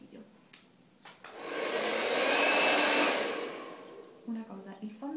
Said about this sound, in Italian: io mi rilasso col rumore del phon